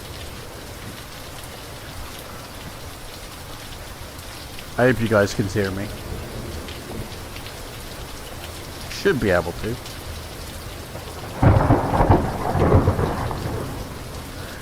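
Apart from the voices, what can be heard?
heavy rain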